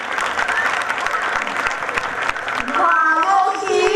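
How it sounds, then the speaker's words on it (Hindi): An audience claps at a cultural program at a Jain temple, dense applause for a few seconds that gives way to a voice singing or speaking over music near the end. "तालियां।"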